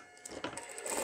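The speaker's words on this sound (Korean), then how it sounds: "박음질 하세요." A sewing machine runs a quick burst of stitching along a seam on a fabric diaper pouch, a fast, close, whirring mechanical chatter that builds over about a second with no talking.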